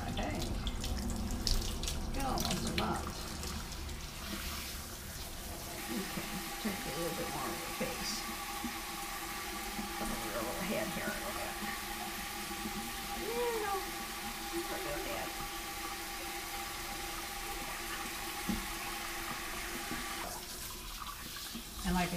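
Running tap water splashes steadily while soap is rinsed off a Persian kitten during a bath, a continuous soft wash of water under frequent talking close by.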